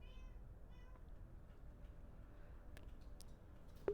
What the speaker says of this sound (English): Oh my goodness, kitty.